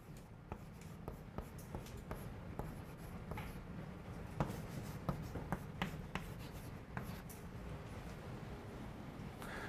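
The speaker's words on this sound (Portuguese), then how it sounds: "Então eu vou escrever uma coisa agora assim." Math being written on a board during a lesson: a continuous scratchy drag of strokes with small taps as each mark starts, close and steady, and no voice heard.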